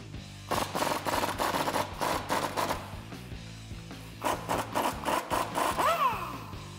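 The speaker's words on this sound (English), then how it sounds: "Now I've got a 21 millimeter wrench holding on our nut and my 21 socket on the bolt head side." A wrench and a ratcheting 21 mm socket work a shock bolt loose on a Ram 1500, making two runs of rapid, rhythmic clicking bursts close to the mic, separated by a short pause.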